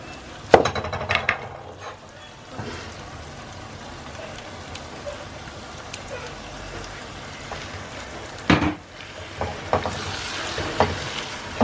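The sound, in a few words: stirring onion mixture frying in a pan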